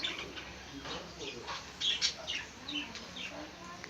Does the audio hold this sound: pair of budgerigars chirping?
yes